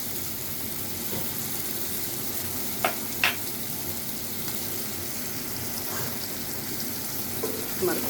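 Hilsa fish curry with potato and brinjal being sautéed in a pan, a steady soft sizzle and frying hiss with a few clinks of a spatula stirring against the pan.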